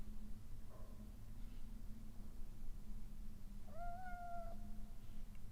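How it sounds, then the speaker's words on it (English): A small cat in the Harry Potter and the Philosopher's Stone video game gives a faint short meow, then a clearer drawn-out meow, over a steady low game hum. "That is a tiny cat."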